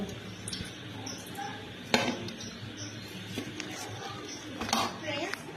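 A metal spatula cuts through a freshly fried Moglai paratha, giving a few light scrapes and clinks against the pan, with two sharper knocks among them, under soft background noise and a voice.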